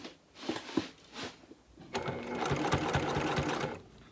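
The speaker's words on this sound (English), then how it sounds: "so I continue sewing with 3/8 of an inch seam allowance." A sewing machine stitches a bag seam at 3/8-inch seam allowance, a few short bursts first, then a steady, close-up run of rapid needle clatter.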